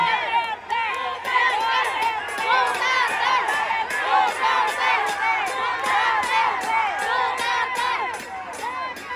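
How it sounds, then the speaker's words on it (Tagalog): A large crowd at an outdoor political rally in Tondo, Manila, for Vice President Sara Duterte shouts and chants loudly and continuously, with many overlapping voices forming a dense, steady roar throughout. "Ang sigaw ng mga tao ay Duterte."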